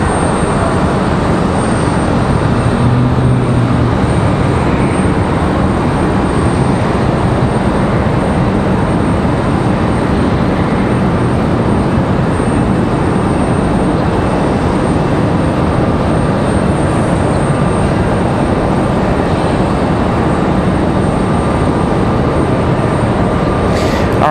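A Southwest Boeing 737-700 at Raleigh-Durham airport gives off a steady, loud jet engine roar that holds unbroken from start to finish, with no voices over it.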